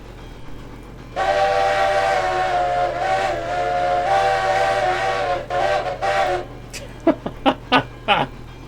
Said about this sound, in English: That's the whistle code for idiot approaching.